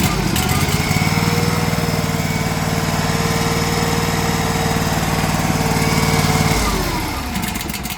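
The engine of a HarMa T625 mini loader, after a starter repair, runs at a steady, loud, buzzing idle with a rough low throb, then its tone drops and fades slightly near the end.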